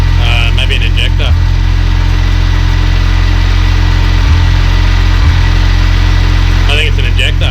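An Isuzu NPS truck engine idles loudly and close with a steady low rumble, a few irregular knocks suggesting injector noise, and people talking over it.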